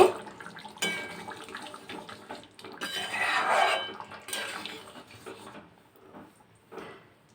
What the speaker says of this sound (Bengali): আর বাকি কুচিয়ে রাখা ধনে পাতাটা আমি এবার দিয়ে দেব দিয়ে খুব ভালোভাবে আমি সব কিছুকে মিশিয়ে দেব